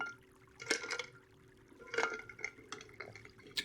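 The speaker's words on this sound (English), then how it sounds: "Take another sip of water." Water is sipped softly and close to the mic in a quiet ASMR setting, with several small wet slurps and gulps spaced out.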